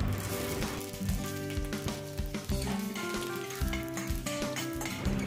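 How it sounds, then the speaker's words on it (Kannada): Steady crackling and sizzling of mustard seeds and lentils frying in oil in a pan, continuous and fairly close, with no talk. "ಇದು ಚೆನ್ನಾಗಿ ಫ್ರೈ ಆದಾಗ ಇದಕ್ಕೆ ಕರಿಬೇವು ಸೊಪ್ಪು ಕೂಡ ಹಾಕಿಕೊಳ್ಳಬೇಕು"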